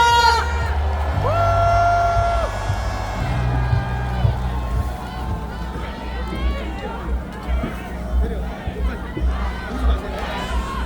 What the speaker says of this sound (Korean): 여러분 뜨거운 박수와 함성 부탁드립니다.